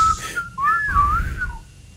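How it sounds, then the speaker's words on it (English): A clear whistled melody from the Max Payne video game, a single sliding tone that rises and falls across a short phrase, heard close and alone over a low background rumble. "I still remember that exact whole whistling sequence."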